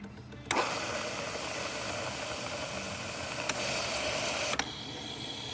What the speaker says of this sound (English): so it'll just run some steam through the nozzle here.